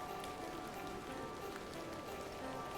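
Steady rain patters down in The Excavation of Hob's Barrow game, a soft, constant hiss of drops that stays even from start to finish, with no voices over it.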